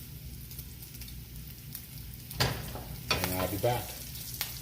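Bacon frying in a pan, a steady sizzling hiss running throughout with bursts of louder crackle and spatter near the end, and someone speaks briefly over it.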